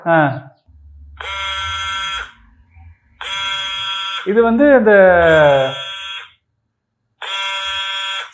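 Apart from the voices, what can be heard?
mobile phone vibrating buzz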